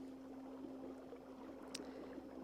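A fishing boat glides slowly and quietly across the water, producing a soft, steady low hum with faint wash and water noise throughout, fairly distant and subdued.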